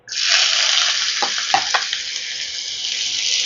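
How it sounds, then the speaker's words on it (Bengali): Chopped onion hits hot oil in a pan and fries with a loud, steady sizzle that sweeps in at once and holds, with a few brief clinks of a utensil partway through. "এবার এখানে আমি দিয়ে দিচ্ছি পেঁয়াজ কুচি"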